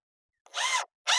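Power drill driving treated screws into roof framing over a deck: two short, close, high-pitched whirring bursts of the drill motor separated by a brief silence, with no talk.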